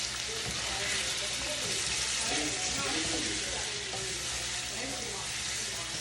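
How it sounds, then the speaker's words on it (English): White sweet onion frying and being stirred in a pan over lowered heat, a dense continuous sizzle with soft scraping from the utensil, close and fairly loud throughout. "And then mixing in my onion. I use white sweet onion."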